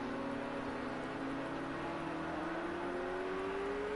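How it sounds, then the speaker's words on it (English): Lamborghini race car in Project CARS 2 on a wet Nürburgring, a fairly faint steady engine whine slowly rising in pitch under a wash of noise, alone without voices. "Race a Lamborghini around the Nürburgring."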